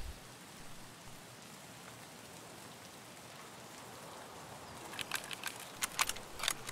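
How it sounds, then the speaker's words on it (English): Steady soft hiss of rainfall in a video game throughout, with scattered sharper drips and spatters picking up toward the end. "It's raining."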